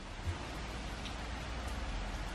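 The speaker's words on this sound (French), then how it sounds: "Regardez, il pleut." Light rain falls steadily as a soft, even hiss with faint scattered drops, quiet and continuous throughout.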